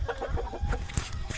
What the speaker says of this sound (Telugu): కింద మొత్తం కోళ్ళ సెటప్